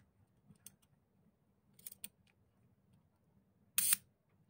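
A Minolta AL-E film camera under repair fires its shutter several times: faint mechanical ticks and clicks, then one sharp, loud shutter snap near the end, close up in a quiet room.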